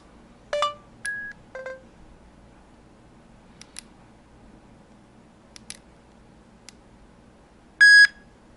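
Bluetooth audio sunglasses sound a series of short electronic power on/off beeps, several sharp tones spread across the clip with a loud final beep.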